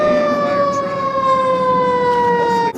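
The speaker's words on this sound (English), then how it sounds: "fire truck over there" A fire truck siren wails loud and close in a long steady tone that slowly falls in pitch as the truck goes past, with a low engine rumble underneath.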